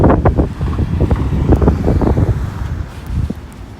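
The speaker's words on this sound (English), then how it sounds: "I'm aware it's windy outside, so I'll try to talk over it" Strong gusty winter wind blasting against the microphone on a Toronto street, loud rumbling buffets that rise and fall, with no one speaking.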